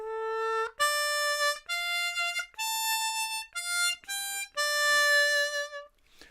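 A C harmonica plays the slow string-part intro of a song, a series of sustained, clear reedy notes separated by short breaths, close and alone.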